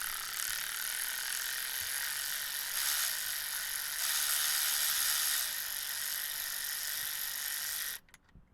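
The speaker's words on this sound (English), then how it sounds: "So get your T40 and just give it a little crank." A ratchet cranks a T40 Torx bolt on a Ford Fiesta with a hard-shifting gearbox, giving a continuous fast clicking whir close by that cuts off abruptly near the end, with no talk.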